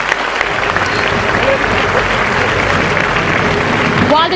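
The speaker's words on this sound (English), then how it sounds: "another round of applause for our judges" Loud, steady applause from the audience at a debating competition final, honoring the judges, a thick continuous roar of clapping with a faint murmur of crowd noise beneath it.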